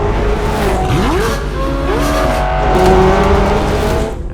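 A race car drives hard, its engine note climbing and falling through sweeping gear changes with tire squeal, loud and close, with no voices.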